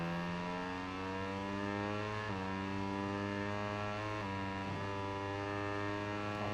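Moto3 motorcycle in the MotoGP 18 racing game, a thin high engine whine holding steady, dipping briefly with gear changes, then climbing again, quiet and continuous.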